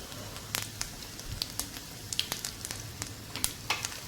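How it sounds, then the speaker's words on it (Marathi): Tempering (phodni) for pumpkin bharit sizzling quietly in hot oil, with a soft steady fry and scattered small crackles and pops. "आता फोडणी चांगली झालेली आहे"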